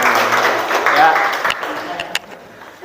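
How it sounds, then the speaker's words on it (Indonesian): Applause from a classroom of students, a steady wash of clapping that fades out over a few seconds, with some voices mixed in. "Dan tepuk tangan untuk semuanya."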